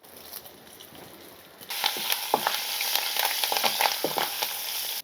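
Tempering of urad dal, dried red chilli pieces, crushed garlic and curry leaves hits hot oil with a sudden loud burst of sizzling that settles into steady crackling and popping, close and with no voices.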